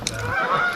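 A goose honks once, loud and close, during a bird hunt.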